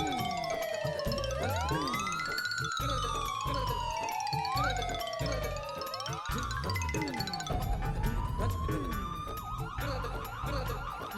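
A wailing emergency siren sweeps up and down in pitch, loud and continuous, as an ambulance arrives at a residential housing society.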